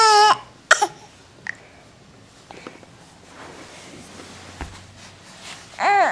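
A baby makes a few short, throaty fake coughs and fussy vocal bursts, spaced out and fairly close, with quiet gaps and faint background shuffling between them.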